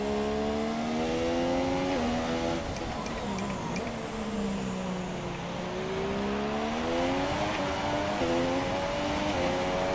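A Formula 1 race car engine in F1 2017, a loud high-revving whine that climbs, drops sharply on gear changes and braking, then rises again as the car accelerates around the track, no talking.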